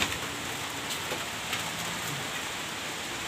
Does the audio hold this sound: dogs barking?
no